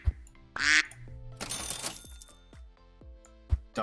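Cartoonish duck quacks from the Super Auto Pets video game mix with chiming, coin-like effects and a bright crashing burst during a battle round.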